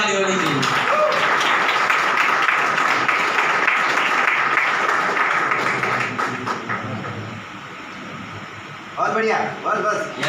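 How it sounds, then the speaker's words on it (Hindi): Loud audience applause fills a room during a product testimony event, dense sustained clapping that gradually thins and fades before a voice breaks in near the end. "जोरदार ताली होनी चाहिए।"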